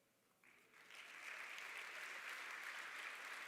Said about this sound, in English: wave your hand so we can give you a round of applause